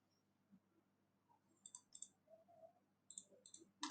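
A computer mouse clicking while picking coins on a Binance crypto trading screen: a handful of soft, separate clicks, some in quick pairs, in near silence.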